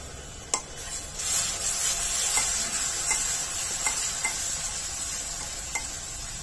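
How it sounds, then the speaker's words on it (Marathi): Ground masala paste sautéing in oil, a steady close sizzle with occasional sharp stirring scrapes and taps of a spoon against the pan. "मिक्सरला वाटून घेतलेला मसाला तेलामध्ये आणि मसाल्यामध्ये चांगला परतून घ्यायचा आहे"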